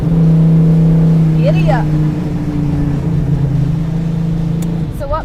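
A car now fitted with a 455 engine, originally a 400, idles with a deep, steady rumble and swells slightly as it is revved, close and loud, while people talk briefly over it.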